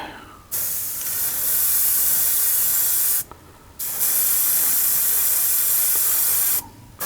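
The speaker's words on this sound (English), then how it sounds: "I'm just going to primer it white" A spray can lays white primer on small N scale picnic table parts in two long, loud, close hissing bursts separated by a short pause, with a third burst starting at the very end.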